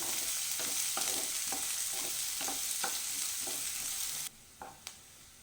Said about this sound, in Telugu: మీడియం సైజు ఒక ఉల్లిపాయ ఆనియన్స్ సన్నగా కట్ చేసి వేసుకోవాలి వీటిని ఆయిల్లో మంచిగా ఫ్రై చేసుకోవాలి